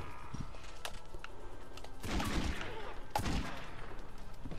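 Gunfire in The Godfather video game comes as a few muffled shots and two heavier bursts around the middle, moderately faint over a steady background din.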